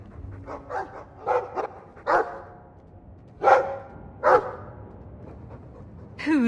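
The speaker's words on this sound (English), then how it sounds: "Who's a funny puppy?" A dog in the video game Dragon Age 2 barks in short separate bursts and lets out high whimpers and yips between them, close and fairly loud, with a soft background hum.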